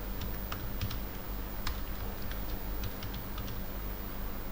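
Typing on a computer keyboard while working in retail store ERP software, a light, irregular patter of key clicks over steady background hiss, close and fairly quiet, without voices.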